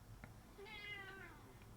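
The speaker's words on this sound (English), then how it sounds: "The grumpiest little meow from her." A cat gives one short, grumpy meow with a falling, drawn-out tone, close and clear over quiet background hum.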